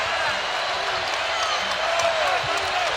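Basketball arena crowd at McHale Center during a UCLA–Arizona game, a steady loud roar of cheering fans rising to their feet, with a commentator talking over it.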